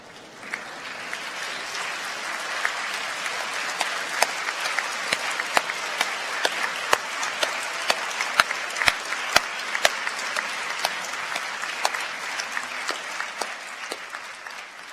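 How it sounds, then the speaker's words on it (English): Sustained applause from a large graduation ceremony audience in a hall, a dense steady wash of many hands clapping for the full length with a few sharper individual claps standing out. "would you please stand and turn to your family and friends in this hall and applaud them"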